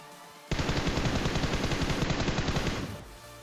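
Automatic gunfire in the mobile battle-royale game PUBG Mobile: a rapid, loud burst of shots fired close up runs continuously for about two and a half seconds, then cuts off.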